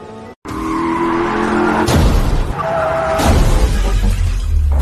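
Dramatic sound effect of a car crash: tires screech as the car skids, then a heavy crash and impacts as it goes over a cliff edge, loud and close, with no voices.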